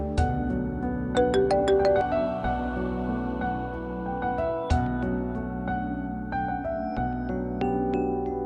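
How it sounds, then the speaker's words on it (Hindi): A phone ringtone plays a steady melodic tune over a drama scene's background music, continuing throughout at moderate loudness with no talk. "फोन बज रहा है आपका।"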